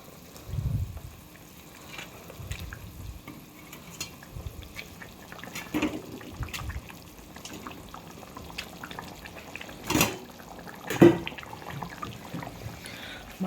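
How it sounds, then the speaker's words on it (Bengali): Fish curry simmers in a pan with the fish pieces added, giving a low, steady bubbling hiss broken by a few soft clinks of a utensil against the pan. "মাছগুলো সুন্দর ফুটছে"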